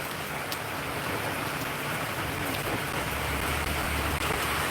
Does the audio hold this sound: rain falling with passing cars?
yes